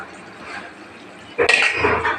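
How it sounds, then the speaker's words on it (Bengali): Small mourala fish curry stirred in a pot: soft bubbling, then a sudden close clatter and scrape of a spoon against the metal, followed by liquid sloshing, with no talking. "একটু নেড়ে দিলাম।"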